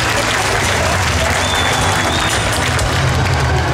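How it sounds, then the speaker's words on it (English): Dense, sustained applause and clapping from a metal concert crowd at the Soundwave festival in Brisbane, loud and continuous with scattered cheers throughout. "Give yourself a round of applause."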